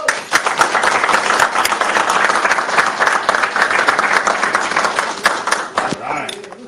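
An audience bursts into dense, sustained applause for a speaker at a gathering, loud and close, fading near the end as a voice begins.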